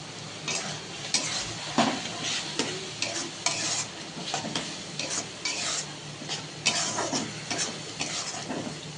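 Prawns with Kashmiri chili powder sizzling in a hot pan, a steady close frying hiss broken by repeated scraping strokes of a spatula stirring, with no talking.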